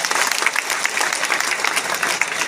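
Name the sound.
audience applause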